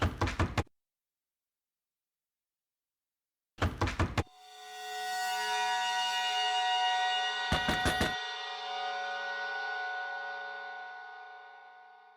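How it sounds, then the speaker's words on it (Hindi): Several short bursts of sharp knocks on a door, separated by silence, ring out close and loud while a sustained, resonant musical tone swells and fades between the knocks. "कोई खटखटा रहा है।"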